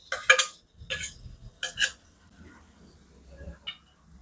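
Chopped bananas are tipped into semolina roasting in a pan, a few close metallic scrapes and clinks of a spoon, then softer stirring and faint sizzling.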